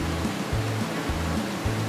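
Free-flowing water of the Snake River in Idaho, on an undammed stretch, rushing in a steady broadband roar with low periodic surges, continuous and fairly close throughout.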